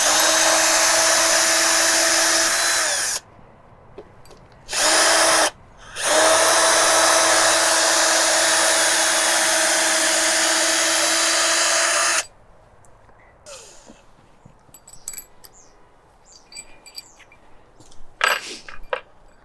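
A power drill backs screws out of timber sleepers on a raised garden bed, loud whining bursts of a few seconds separated by short pauses, then quieter outdoor handling sounds and faint birds afterward.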